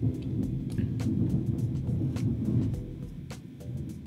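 A deep, rolling thunder rumble fills the whole stretch, loud and continuous, with a few faint higher crackles over it and no voices.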